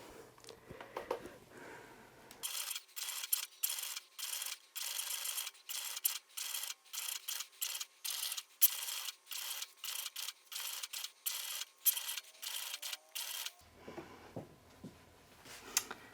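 A Cricut machine cutting chalkboard vinyl, giving off a rapid run of rhythmic mechanical whirring bursts that stop and start, with quieter handling noise before and after.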